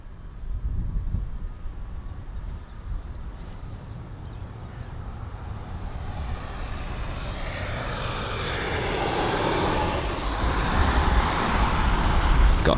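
A steady, rising jet roar from an airliner arriving at London Heathrow airport, building gradually louder over about thirteen seconds as it approaches, with no talk.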